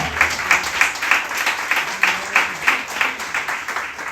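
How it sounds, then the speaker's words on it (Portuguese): Church congregation at a Nova Vida service claps in steady, rhythmic beats, moderately loud and somewhat distant, with faint background voices under the applause. "Aplauda o Senhor com o seu melhor."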